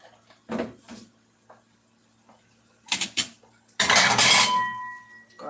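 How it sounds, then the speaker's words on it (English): Dishes clink and clatter as they are put away in a small home kitchen, with a few separate knocks followed by a louder, sustained rattle of crockery nearby. "Let's put it over here in the clean dishes."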